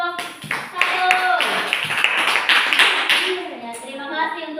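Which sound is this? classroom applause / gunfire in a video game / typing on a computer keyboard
classroom applause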